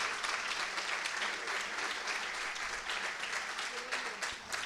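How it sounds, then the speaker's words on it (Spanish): Warm, steady applause from an audience at a hospital conference on traditional medicine and complementary therapies, continuous and moderately loud, with a few murmured voices beneath. "vamos a darles un aplauso porque..."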